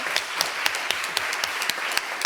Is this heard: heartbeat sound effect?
no